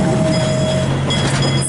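A small train rolling on rails through a Y turnaround, a short steady rumble of wheels on track with a thin metallic ring, close and fairly loud.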